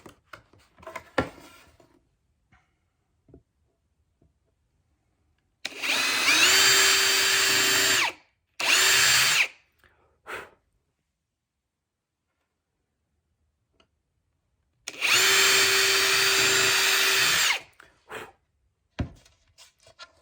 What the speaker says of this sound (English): And then I'm using this drill.